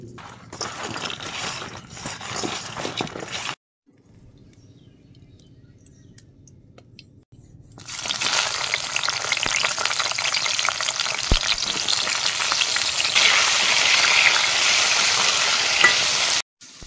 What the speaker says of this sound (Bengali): লবণ দিয়ে পটলটা ভেজে নেব